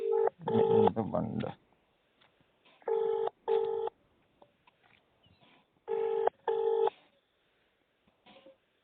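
Telephone call tones sound while dialing a person who does not pick up, with repeated paired ringback bursts at regular intervals, clear and close, with silent gaps between them.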